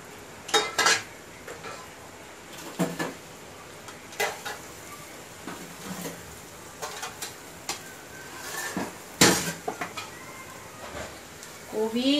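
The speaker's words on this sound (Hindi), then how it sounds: "अभी गोभी डाल रही, कांदा जास्ती लाल नहीं करने का, आधा फ्राई करने का।" Cauliflower and onion being half-fried in a pan for an Indian-style cabbage tarkari, heard as intermittent clanks and scrapes of a metal spoon against the pan over a faint sizzle, with someone talking in between.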